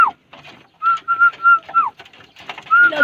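Pigeons coo close by while being fed by hand, giving a series of soft, tonal, rolling calls with short gaps between them.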